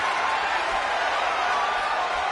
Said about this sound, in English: And listen to this capacity crowd.